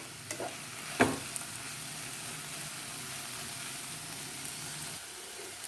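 Okra frying in a pan with chili powder while being stirred, giving a steady close sizzle throughout with one brief louder scrape near the start.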